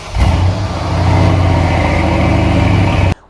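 Mercedes-AMG GLE63 S performance SUV with quad exhaust revving loudly up close, a deep, throaty engine roar held for about three seconds before cutting off abruptly.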